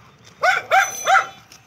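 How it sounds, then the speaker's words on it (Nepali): A dog off at a distance gives three evenly spaced, sharp barks over a quiet rural background. "उताबाट ऊ कुकुर भुकिरह"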